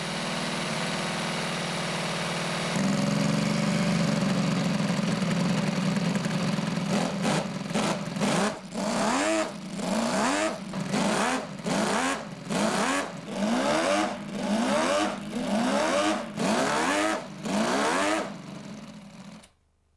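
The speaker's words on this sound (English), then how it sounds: "under the body, you'll find a scaled-down version of the original engine, which actually works." A small working scale model Ferrari V12 engine idles steadily, then revs in a rapid series of short, rising bursts, each pulse sharp and buzzy, before cutting off.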